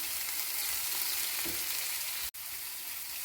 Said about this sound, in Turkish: Bunları güzelce soteleyeceğim. Bunları sotelemek için bir fincan sıvı yağ koydum.